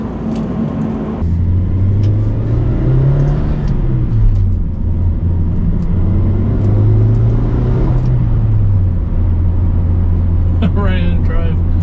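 A 1995 Nissan 200SX S14 Zenki in all-original condition drones steadily from inside the cabin while driving. Its engine pitch climbs and falls twice, marking smooth gear shifts.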